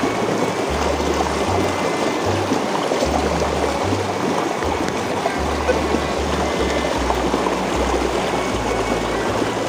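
Steady, loud rush of water roaring continuously, recorded from inside a waterfall, with a low rumbling undertone throughout.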